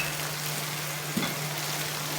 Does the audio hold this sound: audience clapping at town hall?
no